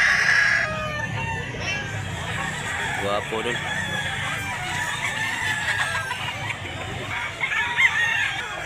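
Gamecock roosters at a farm in Mantalungon, Cebu crow and cluck repeatedly in the background, with the cries overlapping and carrying over steady nearby conversation in Cebuano throughout.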